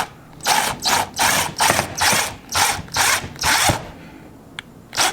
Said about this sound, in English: we're adding these screws in here because she does still have the other tray